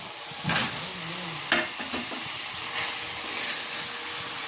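Fried potatoes tipped into masala in a pan for Bengali aloor dom with peas, a steady sizzle broken by a couple of thuds and scraping stirs near the start.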